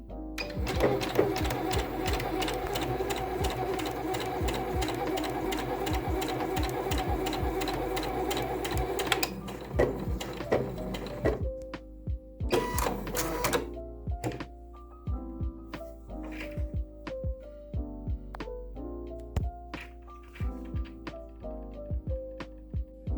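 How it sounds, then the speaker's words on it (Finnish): Domestic sewing machine stitching a single layer of denim fabric, a fast steady mechanical whir and rattle running for several seconds, then stopping into scattered clicks, knocks and handling taps. "miten tää ompelukone ompelee farkkukangasta"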